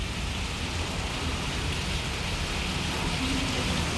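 Heavy rain falls in a dense, steady hiss that is close and constant, with no break or other sound standing out.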